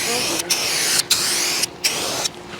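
Spray paint hisses onto a muscle car in bursts, the aerosol can sputtering between steady sprays at close range.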